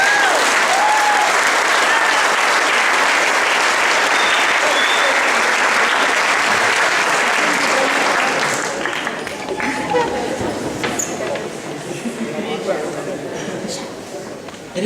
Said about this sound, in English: give a huge honor of applause for our teachers, principal, parents, family, and friends